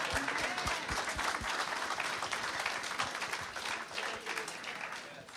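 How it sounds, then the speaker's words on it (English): A church audience breaks into sustained applause at a sermon, a dense wash of many hands clapping at steady loudness for several seconds. "Go ahead and clap if you want."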